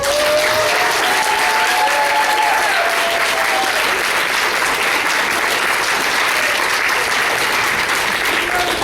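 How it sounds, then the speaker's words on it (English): Sustained, loud audience applause for a theater tech crew after an abridged Shakespeare stage performance, the clapping thick and continuous, with a few whoops and cheers rising over it early on. "If you guys could just give me a real big round of applause for my tech crew."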